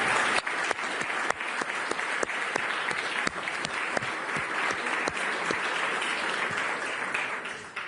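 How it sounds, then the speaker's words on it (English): An audience at the ECB Forum, a central bank conference, gives sustained applause, a dense even wash of clapping with a few sharp individual claps standing out nearby. "Now, I would like to ask you, yet again, to applause"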